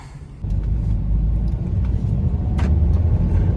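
A Maruti Swift Dzire petrol car with a newly replaced clutch pulls away on the road, a steady close low rumble of engine and tyres swelling slightly after the first half-second, with no talking.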